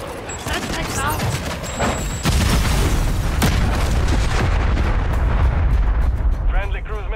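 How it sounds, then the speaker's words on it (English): Deep booming cruise missile explosions in Call of Duty on the Terminal map during Hardpoint roll out in a sustained, rumbling barrage, with heavy low blasts under clipped announcer voice lines and gunfire. "Friendly cruise missile deployed."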